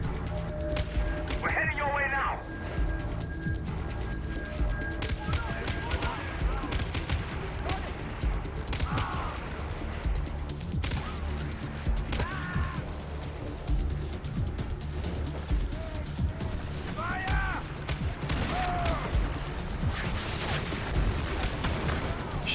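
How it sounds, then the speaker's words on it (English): Fireworks bursting in the Far Cry 4 video game, scattered cracks and pops over a busy backdrop of gunfire and mechanical game noise, with occasional whistling tones and a voice talking now and then. "fireworks are going off"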